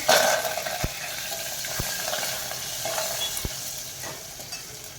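Curry leaves go into hot oil with crushed garlic for katachi amti, bringing a lively sizzle and spatter, with a few sharp knocks from a spoon against the pan as the mix is stirred.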